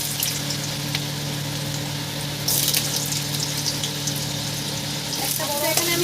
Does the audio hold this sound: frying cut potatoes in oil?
yes